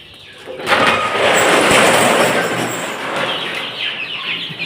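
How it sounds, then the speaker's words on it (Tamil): Young chickens about two and a half months old, a flock crowding and stirring in a pen, with a burst of rustling, flapping and faint clucks for several seconds, fairly close and with no talk. "இதில் இந்த குஞ்சுகள் நிற்கிது பாருங்கள்."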